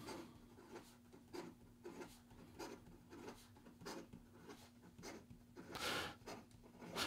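A Penlux Delgado Betta fountain pen with a slightly scratchy nib writes fast on paper, giving faint, close, rhythmic scratching strokes that repeat over a low hum.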